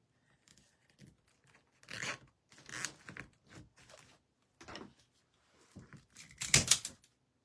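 Someone zips up a bag or case while making a craft wreath, with short quiet rustles and zipping strokes and a sharper final pull, without any talk.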